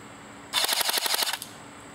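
An A&K M249 SAW PARA airsoft electric gun fires one sustained burst in a rate-of-fire test, a rapid, evenly spaced mechanical rattle of about fifteen shots lasting under a second, close and loud, with no talk.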